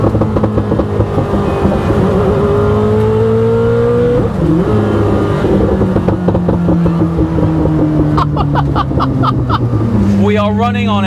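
A Koenigsegg Chimera supercar's engine pulls hard on a track, a loud sustained drone with steady rising and falling tones and gear-change dips, while an excited voice talks over it near the end.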